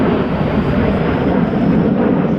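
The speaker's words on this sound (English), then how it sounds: "So we got the B-2 with the T-38 off the wing." B-2 stealth bomber flying in formation with a T-38 jet off its wing at a 2024 air show, a steady, loud broadband engine roar sustained throughout with no break.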